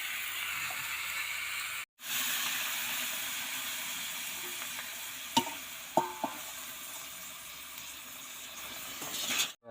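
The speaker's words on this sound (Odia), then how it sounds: "ବାଇଗଣ ଆଳୁ ଭଜା ଚାଲିଛି, ମୋ ବୋଉ ଭାଜୁଛି" Eggplant and potato slices frying in a pan at home, a continuous hissing sizzle with a short break and a few small clinks of utensils, no talking.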